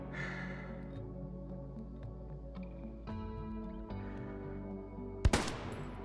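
M1 Garand rifle shots in the World War II shooter Hell Let Loose, with one sharp, loud report standing out near the end over a steady low rumble of battlefield ambience and background music.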